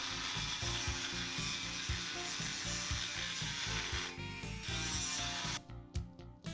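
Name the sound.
Dremel tool with carbide bit grinding a vise jaw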